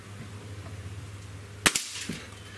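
A single sharp crack from a Gamo Swarm Magnum .22 breakbarrel air rifle firing, close and brief, followed by a faint mechanical clatter over a low steady hum.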